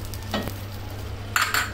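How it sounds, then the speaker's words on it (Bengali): Onion paste and garlic paste for a greens dish are stir-fried in a pan over a low steady sizzle. A few quick spatula scrapes and stirring bursts stand out nearby. "এখন একটু নেড়ে চেড়ে এটা পেঁয়াজটাকে আর রসুনটাকে কষিয়ে নিতে হবে।"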